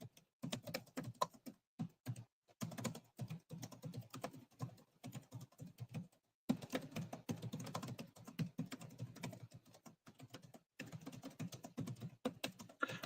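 Rapid typing on a computer keyboard in irregular bursts of clicking keystrokes with short pauses, close and fairly quiet, and no voices.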